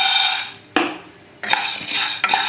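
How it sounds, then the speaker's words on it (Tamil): Black peppercorns being dry roasted in a hot pan for rasam powder, heard as a bright, loud rattling and scraping as they are stirred, with a brief pause before the stirring resumes more vigorously. "பாத்திரம் நல்லா சூடு ஏறி வச்சு இந்த மிளகை பார்த்திங்கன்னா வறுத்து எடுத்து வேண்டியதான்"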